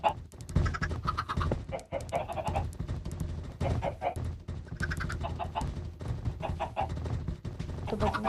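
Chickens cluck and squawk on a chicken farm in a video game, the bird calls repeating steadily close by over a continuous background.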